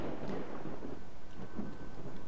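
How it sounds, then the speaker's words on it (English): A thunderstorm in the video game Lost Alpha: steady rain hiss with low rolling thunder rumbling throughout, dense and continuous with no voices. "This is a nice storm."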